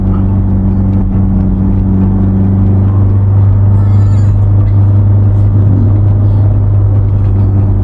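A car engine climbs a winding hill road at Phu Thap Boek in the rainy season, shifting up to third gear, with a loud, steady low drone and rumble that runs throughout at close range.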